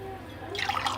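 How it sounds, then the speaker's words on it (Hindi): Water poured from a glass into a pot of rice for salted rice, a soft splashing trickle that starts partway through and continues close by, with no talking. "अब हम इसमें डालेंगे पानी।"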